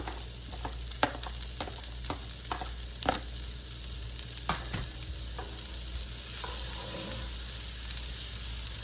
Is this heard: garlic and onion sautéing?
yes